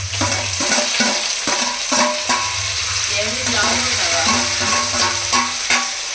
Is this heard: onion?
yes